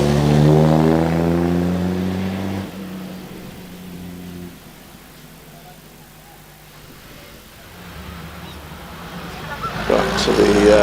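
Vintage Delahaye racing car at the Prescott hill climb accelerates up the hill, a loud engine note rising through the gears, fading into the distance and then swelling back, with a commentator talking over it.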